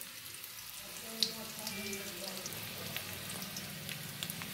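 Ginger and green chili paste frying in oil with turmeric and salt, a steady soft sizzle with light stirring, while a person speaks over it.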